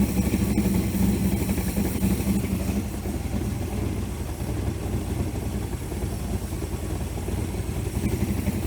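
A 394 stroker V8 car engine, freshly built, idles at around 1,000 rpm with a steady, low rumbling throb, holding an even pace throughout.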